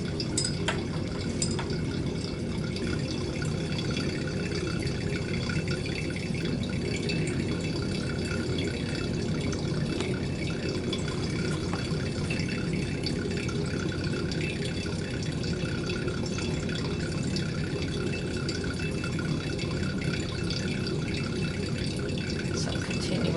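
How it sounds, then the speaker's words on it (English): Water drips quickly and continuously from a laboratory burette into a flask during a titration, a steady wet patter over a constant background hiss. "Some continuous but quick dripping."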